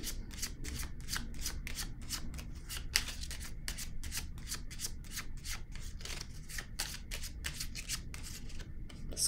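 Tarot cards shuffled by hand in a steady run of quick riffling and rubbing strokes, repeated rhythmically and close for about nine seconds with no talk.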